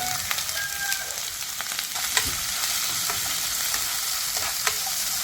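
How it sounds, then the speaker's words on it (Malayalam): Two small onions, sliced lengthwise, sizzle steadily in hot oil for a sadya-style kalan, with a dense, even frying hiss and occasional sharper crackles and pops close by, no voices. "ഈ എണ്ണയിലേക്ക് തന്നെ നമ്മൾ അരിഞ്ഞു വെച്ചിരിക്കുന്ന ചെറിയ രണ്ട് സവാള നീളത്തിൽ അരിഞ്ഞു വെച്ചിരിക്കുന്നതാണ് ഈ സവാള ചേർത്ത് കൊടുത്തേ"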